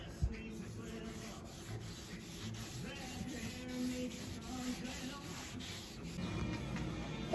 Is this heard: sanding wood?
yes